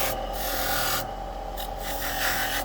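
A rotary tool polishes Glock pistol metal parts with a continuous loud whirring, rasping grind, steady and close with slight shifts in tone as the contact changes.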